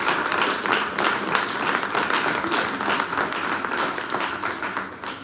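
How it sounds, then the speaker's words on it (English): Sustained applause from an audience at a university guild annual general meeting, steady clapping filling the room for several seconds with a faint murmur of voices underneath. "I just wanted to invite a round of applause for my hard-working team."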